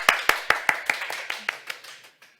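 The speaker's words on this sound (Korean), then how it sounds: "그러면 오영경 박사님의 강연 박수로 청해 듣도록 하겠습니다." An audience at a parenting forum claps to welcome a lecturer, about a dozen sharp, evenly spaced claps that quickly fade out, with no talk over them.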